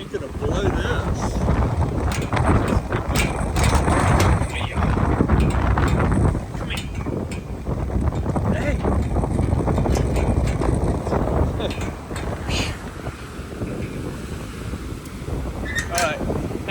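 Strong cyclone wind buffets a jetty wall in Antique, Philippines, gusting loudly into the microphone with a rumbling roar, while someone talks over it.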